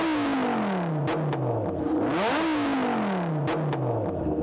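A Dodge Viper V10 engine revs up and down twice, a deep throaty, truck-like roar rising and falling in pitch with sharp mechanical clicks between, close and loud.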